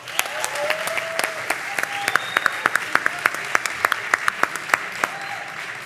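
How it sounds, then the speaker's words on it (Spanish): Audience applause at a live podcast recording, sparse and uneven at first and then building into distinct, sharp claps with a few louder individual hits, fairly close. Faint vocal sounds briefly surface over the clapping. "Un aplauso."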